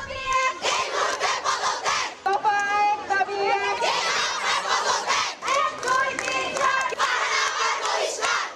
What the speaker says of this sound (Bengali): স্লোগানে উত্তাল রাজধানীর বেইলি রোডের ভিকারুন্নিসা নূন স্কুল অ্যান্ড কলেজের প্রধান ক্যাম্পাস